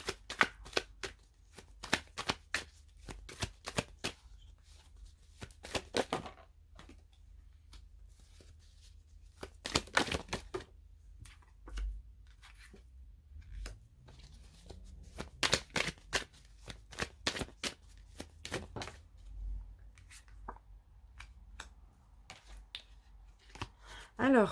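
Osho Zen Tarot cards being shuffled by hand, repeated riffling bursts and sharp flicks separated by pauses, close and crisp in a quiet room.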